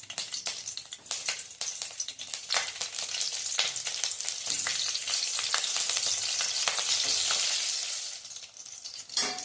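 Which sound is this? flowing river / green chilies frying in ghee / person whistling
green chilies frying in ghee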